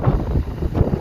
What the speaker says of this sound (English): gusting wind that probably went 80 miles an hour